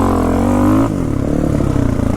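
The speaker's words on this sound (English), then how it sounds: "This is the engine from his DRZ" A Suzuki DRZ motorcycle engine runs loud and close, holding a steady buzzing rev before dropping to a lower, pulsing idle.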